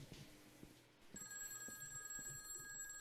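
A telephone rings in the horror video game Those Who Remain, its repeated electronic bell tone starting abruptly midway and continuing steadily, fairly faint over low background ambience.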